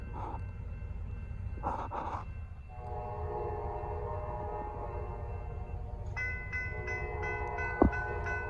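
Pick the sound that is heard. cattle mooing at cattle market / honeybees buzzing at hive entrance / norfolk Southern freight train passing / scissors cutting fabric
norfolk Southern freight train passing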